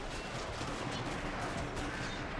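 Musket gunfire rattles through a video game battle near forest cover, a dense continuous crackle of many shots blending into a steady roar with no pauses.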